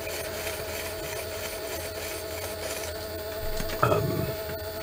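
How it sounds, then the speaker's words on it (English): A blued saddle screw from a Schatz 53 anniversary clock is polished on a small workshop machine: a steady, loud whirring hum with a rough rubbing texture throughout, and a brief harsher grind near the end. "we're all set up for getting the screw polished up"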